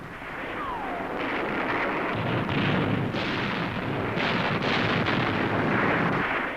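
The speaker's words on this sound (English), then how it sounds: "The tanks and the artillery subjected the post manned by rifle company to very heavy fire." Heavy artillery and tank fire in a 1971 India–Pakistan battle, heard as a dense, continuous rumble with repeated booming surges and wind-like noise throughout.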